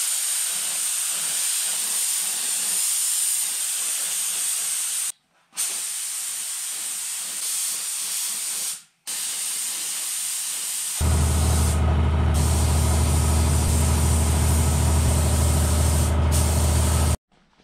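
A spray gun sprays primer and clear coat onto a test piece, giving a close, steady hiss broken by two brief pauses. A louder, droning rush of air then runs to the end.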